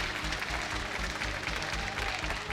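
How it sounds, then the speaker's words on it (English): An energetic crowd at a Misfits Gaming versus Giants EU LCS Spring Split esports match cheers and applauds, a steady, moderately loud wash of claps and voices with no break. "We have a very energetic crowd today."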